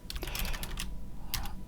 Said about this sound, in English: You need to type in the name yourself.